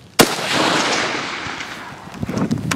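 A single loud rifle shot cracks out at a shooting range as the rifle fires at a distant target, followed by a long fading echo and some faint handling noise.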